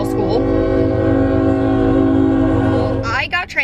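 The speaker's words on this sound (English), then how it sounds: "I hope you can hear me okay because there is a train." A passing train sounds a loud, sustained horn chord that holds for about three seconds and then cuts off, followed by rumbling and brief talk.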